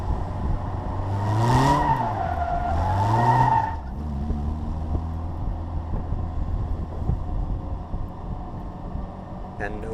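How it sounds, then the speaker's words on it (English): An early-production Bugeye Sprite braking hard, its tires squealing and skidding in a loud rising-and-falling howl for several seconds, then fading to a low engine idle with light road noise. "here I am hard on those brakes, testing them, showing you that the car stops really nicely"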